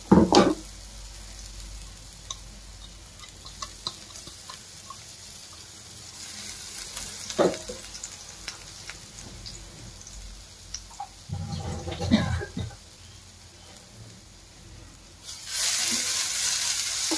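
Ground spice paste frying for veg biryani, a steady close sizzle running under scattered stirring clicks and scrapes, with a louder hiss swelling near the end.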